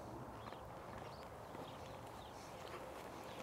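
A horse walks slowly during a riding lesson, its hooves clip-clopping faintly and irregularly on the ground at a distance, with a low steady background hum and no talking.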